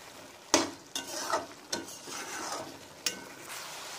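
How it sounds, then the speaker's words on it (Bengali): Minced mutton keema being stirred and fried in oil in a pan, soft sizzling broken by several scraping stirs of a spoon against the pan, fairly quiet and close, no talking. "কিমা থেকে তেল ছেড়ে দিয়েছে। এই স্টেজে আপনারা অনবরত নাড়তে থাকবেন।"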